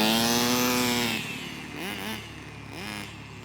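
A Kyosho Nitro Mini RC car's small nitro engine screams at full throttle, a loud, high-pitched whine that climbs steadily and then rises and falls in quick revving bursts.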